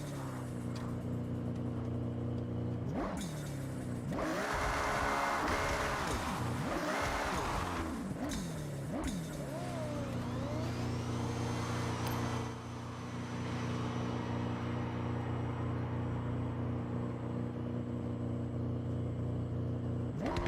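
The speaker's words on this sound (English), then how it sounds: "Get your revs up, and on green, release the handbrake and go." Launch-control start in the Forza Horizon 6 racing game: a car engine holds high revs, then roars off with rising, shifting engine tones settling into a steady loud drone, with no talk over it.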